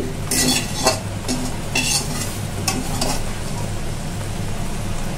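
A spatula stirs cooked taro leaves and boiled shrimp in a wok, scraping in bursts over a steady sizzle, close and loud with no talk.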